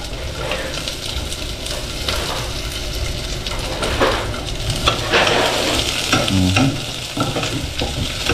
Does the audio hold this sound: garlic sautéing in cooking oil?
yes